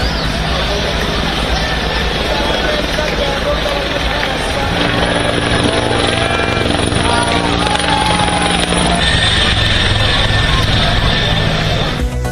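A helicopter showers flowers over pilgrims at the Prayagraj gathering, its steady loud rotor drone filling the scene over a dense background of crowd noise and babble.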